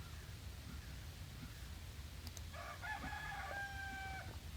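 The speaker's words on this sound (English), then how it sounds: "We're going to be serenaded by Mr. Heckles, my rooster." A rooster crows partway through, a drawn-out cock-a-doodle-doo at moderate distance over a steady low outdoor rumble.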